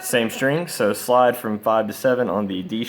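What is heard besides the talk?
None of the usual background noises is heard.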